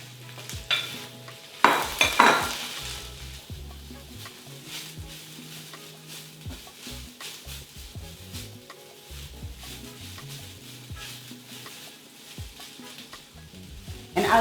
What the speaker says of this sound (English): And then we're gonna give it a good stir fry